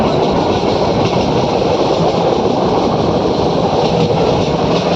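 A passenger train runs on the Gir Gadhada to Sasan Gir line toward Jamwala station, heard from inside as a loud, steady rumble of wheels and carriage noise that continues unbroken for five seconds with no voices.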